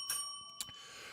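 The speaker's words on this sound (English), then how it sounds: "press that notification bell" A notification bell sound effect rings out twice in quick, bright dings, the second sharper, ringing with a lingering metallic tone and no talking.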